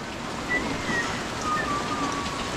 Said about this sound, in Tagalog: Uy, lakas ng ulan.